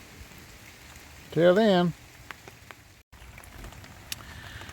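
Light rain patters softly and steadily outdoors near a driveway drain pipe, faint and continuous, with a brief spoken phrase over it.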